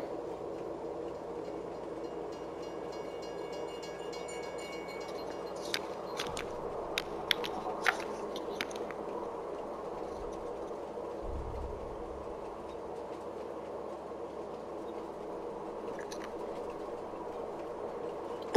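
A train running in Farming Simulator 22, a low steady rumble with a few sharp metallic clicks partway through, fairly quiet and continuous.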